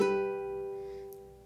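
A single ukulele strum across all four strings rings out and decays, part of the Bohemian Rhapsody arrangement, clear and close with no talk.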